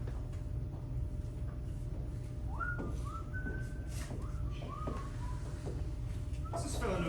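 A gravedigger whistles a short, wavering tune while digging a grave in a staged performance of Hamlet, the thin notes rising over steady background noise in a large room.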